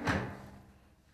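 Wardrobe drawer in a stylish two-bedroom apartment in Barcelona's Poblenou neighborhood, opened once with a short wooden rumble and soft thud near the start that fades quickly into room quiet.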